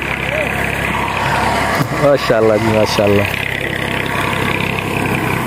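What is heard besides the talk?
tractor engine running in a Pakistani village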